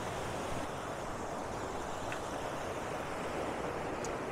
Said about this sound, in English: We've got the water flowing underneath over these rocks